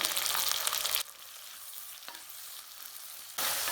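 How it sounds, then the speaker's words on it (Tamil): Loud sizzling of onion and tomato sautéing in a pan, with a quieter stretch of gentle crackling in the middle before the hiss swells again. "இதையும் சேர்த்து நல்லா வதக்கி விட்டுக்கலாம்"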